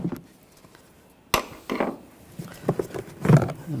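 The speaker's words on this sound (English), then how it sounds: "Pop this clip up." A plastic retaining clip snaps up off the valve cover of a 2006-2010 BMW 550i with the 4.8L V8, a sharp close click followed by a few lighter plastic and metal taps and handling knocks.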